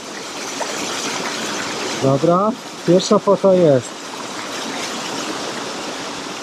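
A waterfall gives a steady, loud broadband rush of falling water, heard close, while someone speaks briefly over it.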